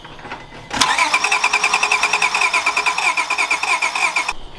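A car engine cranks on a cold start attempt after an engine bay makeover, the starter churning in a fast steady pulsing rhythm for several seconds without catching, loud and close, then cutting off.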